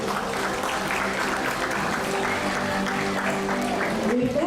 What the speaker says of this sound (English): Let's give everyone here one big round of applause.